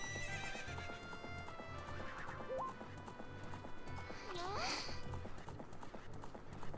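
A horse in the Ocarina of Time video game trots with a steady clip-clop of hooves and gives two high, wavering neighs partway through, clear and prominent.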